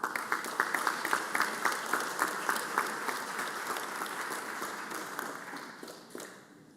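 Applause in the Mississippi Senate chamber, a dense, steady round of clapping with distinct claps standing out early, filling the room and gradually thinning and fading away toward the end.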